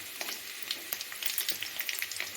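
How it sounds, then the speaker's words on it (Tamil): Ginger, green chillies and curry leaves frying in hot oil for a millet pongal tempering, a close continuous sizzle with crackling pops throughout. "இஞ்சி போட்டதுக்கப்புறம் பச்சை மிளகா கருவேப்பிலை போட்டுக்கலாம்."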